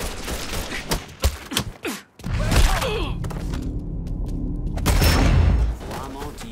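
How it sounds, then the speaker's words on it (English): Gunfight in the video game Mafia III, with a burst of sharp gunshots up front, then a heavy boom followed by sustained loud rumbling and crackle, with faint game voices under it. "We got us a gunfight."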